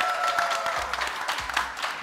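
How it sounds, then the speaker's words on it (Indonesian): Studio audience clapping on an Indonesian TV talk show, a dense steady patter that holds for two seconds with a host's voice faintly mixed in. "Tepuk tangan lagi dong."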